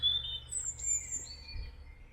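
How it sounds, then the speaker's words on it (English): Woodland birdsong at a wild camp, with thin, high chirps and whistled phrases that come and go over a quiet low background rumble, with no voices. "just sitting out in the woods, you can probably pick up on that bird song"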